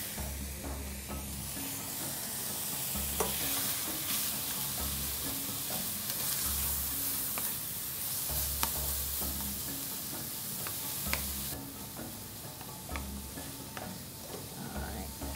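Chorizo sausage fries in a pan for egg burritos, a continuous crackling sizzle close by, punctuated by occasional sharp pops and spatula clicks, with a low hum running beneath.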